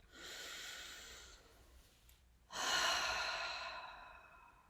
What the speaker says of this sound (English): Let's just take another deep breath.